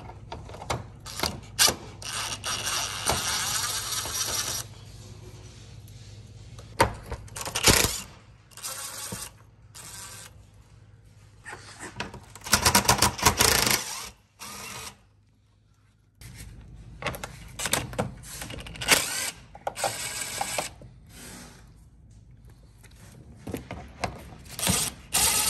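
Ratchet working the 10mm bolts out of a Toyota Corolla front bumper, with bursts of rapid clicking pawl turns broken by pauses and some handling noise of parts, close and moderately loud, no speech.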